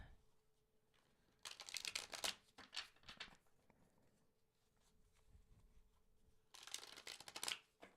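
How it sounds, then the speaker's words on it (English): Two bursts of rapid riffling as animal oracle cards are shuffled, separated by a quieter pause with faint handling noises, fairly close. "let's shuffle some animal cards"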